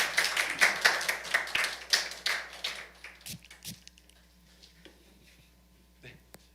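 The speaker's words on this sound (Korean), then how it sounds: "우리 두 분 선교사님 박수로 모시겠습니다" A church audience claps to welcome a missionary couple back from Cambodia, a dense close burst of hand claps that thins out after about three seconds into a few scattered claps and taps.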